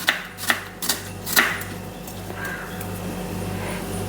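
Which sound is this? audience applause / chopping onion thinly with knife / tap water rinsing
chopping onion thinly with knife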